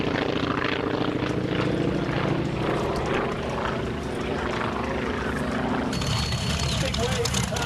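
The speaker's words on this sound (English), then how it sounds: "giving us a little demonstration of the aerobatic capability of that aircraft" Tailwheel trainer aircraft with conventional landing gear flying an aerobatic display at a 1996 Valiant Air Command air show, its propeller engine droning steadily and loudly, the pitch wavering as it manoeuvres, with voices talking over it.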